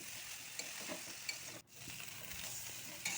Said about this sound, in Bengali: বেগুনগুলো দিয়ে আবার একটু ভালো করে কষিয়ে নিচ্ছি